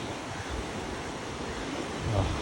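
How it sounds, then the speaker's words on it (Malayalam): Strongly flowing water at the raised shutters of Ponnani bridge makes a steady, dense roar that stays loud throughout, with a slightly stronger surge near the end. "ഇവിടെ നല്ല ഒഴുക്കാണ് വെള്ളത്തിൻ്റെ,"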